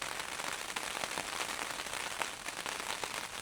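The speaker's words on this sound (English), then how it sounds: "Let's just wait in here for a while to see if the rain passes by." Rain falling on a cabin in Finland, heard from inside as a steady, dense hiss of drops pattering on the roof, fairly faint and continuous, with no voices.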